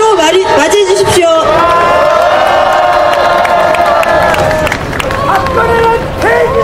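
A large crowd at an outdoor general-strike rally cheers and claps loudly, with whoops and shouting over a dense roar, while a voice and music carry through over it.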